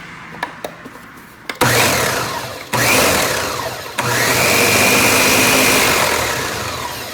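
A blender whirs up in three bursts after a few clicks, the motor pitch rising and settling, the last run held steady and loud.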